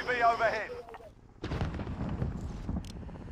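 Gunfire in the Warzone video game, a burst of shots and booming reports starting midway and continuing to the end, loud and dense, after a short stretch of a voice at the start.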